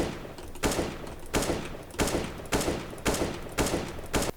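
Rapid gunfire in Counter-Strike: Global Offensive, sharp close shots fired in short regular bursts, about seven bursts roughly half a second apart, loud and alone.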